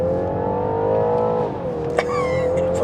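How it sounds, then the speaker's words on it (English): A BMW 330e plug-in hybrid in sport mode with Extra Boost accelerates hard, a loud, steady engine-and-motor drone that rises briefly, dips, then settles into a higher tone alongside a faint whine. "there's another little cheeky hack on this car called Extra Boost, and it gives you everything at once, and you plant your right foot to the floor"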